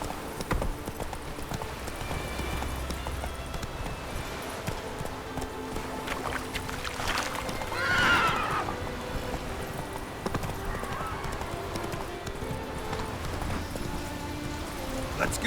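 Horse in the video game The Witcher 3 hooves clip-clopping at a quick, steady rhythm, with a short whinny partway through, under a voice talking.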